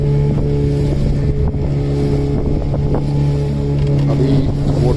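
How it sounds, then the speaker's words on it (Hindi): A fishing boat speeds across open sea off Mappila Bay harbour in Kannur, Kerala, its loud engine droning steadily under rushing wind and water noise, close to the microphone. "बोट बहुत फास्ट मूव कर रहा है"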